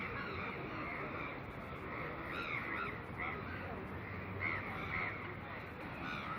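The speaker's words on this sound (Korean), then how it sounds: "너무 까마귀들이 너무 시끄럽네" Several crows caw repeatedly at a distance at Inya Lake in Yangon, Myanmar, over a steady outdoor background hiss, harsh calls coming in scattered bursts.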